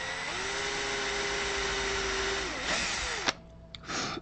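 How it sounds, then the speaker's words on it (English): A power drill whines steadily as it bores holes in a Fender Squier Strat guitar body, a loud sustained motor tone that winds down near the end, followed by short bursts of the bit spinning up again. "to drill these dead center of the holes"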